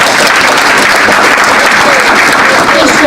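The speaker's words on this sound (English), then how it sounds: "I think we shall give Heather a round of applause." Steady, loud applause from an audience at a rural health clinic grand opening, dense clapping filling the whole stretch without a break.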